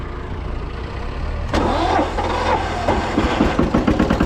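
An Ammann 720 kg vibratory plate compactor starts up and runs on dry ground being compacted for a building site, its engine noise jumping in loudly partway through and then holding a steady, pulsing mechanical rumble up close.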